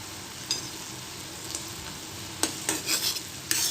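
Gulab jamun syrup sizzles in a pan under a constant bright hiss, with a few sharp stirring scrapes, clustered strokes near the end; no one speaks.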